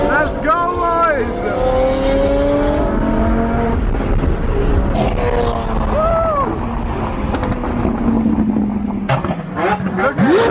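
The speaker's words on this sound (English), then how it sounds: "Can't even speak, there's so much revving" Several supercar engines rev loudly and continuously at a crowded supercar event in the Middle East, with pitch sweeps rising and falling as cars pass close by; voices are mixed into the roar throughout.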